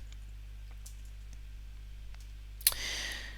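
A single short mouse click on a computer, activating a WordPress plugin, sharp and close near the end, followed by a faint rustle over a low steady electrical hum in an otherwise quiet room.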